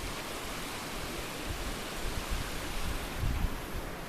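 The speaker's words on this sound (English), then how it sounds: "I'm right beside the creek." Creek water flowing steadily beside a hiking trail in Shenandoah National Park, a constant broadband rush heard close up with no voices.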